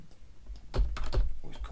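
Keystrokes on a computer keyboard while entering button code, a few close clicks and taps bunched in quick bursts with a soft low thump underneath.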